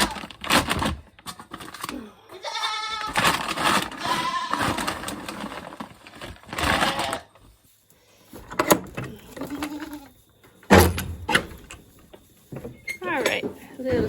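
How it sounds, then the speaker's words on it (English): Sheep and goats on a homestead bleat in several wavering calls among rustling and clattering movement nearby, loud and close, with a person talking intermittently. "All right, little sheep and goats."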